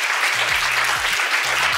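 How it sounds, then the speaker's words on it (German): Applause from an audience at a team event fills the room as a loud, steady wash of many clapping hands, with a low hum or tones running underneath. "Ein Applaus für Sie."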